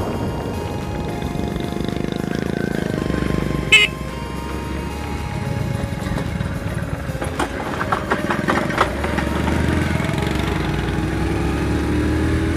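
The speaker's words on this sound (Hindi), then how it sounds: "अपनी एक रेड़ी के अंदर बाइक को फिट किया हुआ है" A motorbike engine fitted inside a makeshift vendor's cart (jugaad) in Pakistan, a steady low putter running throughout, with a sharp clatter partway through and some rattling later.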